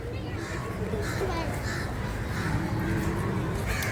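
Crows caw in repeated bursts at a park in Delhi, set back behind a steady wash of crowd noise and background voices.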